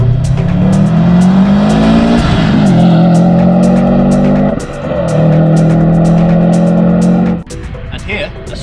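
A Subaru Impreza WRX STI PPP Widetrack engine and exhaust hold a loud, steady burbling drone with rising revs and brief dips, close and continuous before cutting off near the end.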